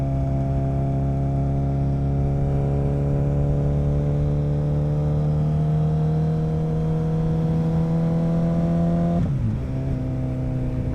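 Suzuki Hayabusa motorcycle engine drones loudly and steadily as it rides through curves, the pitch rising gradually before a brief dip near the end, with constant wind rush.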